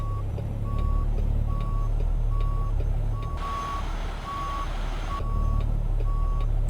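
A reversing truck in American Truck Simulator gives a steady, evenly spaced series of high beeps over a constant low engine rumble, with a brief burst of broadband hiss midway.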